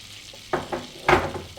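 Mustard seeds and cumin drop into hot butter and start sizzling, with two short bursts of spitting and crackle close by before they settle to a low hiss.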